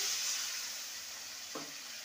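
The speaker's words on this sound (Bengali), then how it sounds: "টমেটোটা সুন্দরভাবে গলে গেছে, এবার দিয়ে দেবো সামান্য জল" Cooked-down tomatoes sizzle steadily in a pan after a little water goes in, a soft continuous hiss with one short scrape of a spoon near the end, fairly quiet and with no voices.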